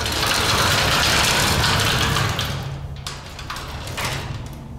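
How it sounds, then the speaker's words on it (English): The heavy door of a vintage 1966 Otis bottom-drive traction freight elevator at Waco Hall opens with a loud, broad rumbling slide that fades over several seconds, with a few scraping bursts near the end. "we're gonna open the door"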